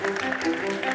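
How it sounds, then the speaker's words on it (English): Audience applause at a live Chennai awards event, a steady dense wash of clapping filling the whole second at close, even loudness. "Huge round of applause,"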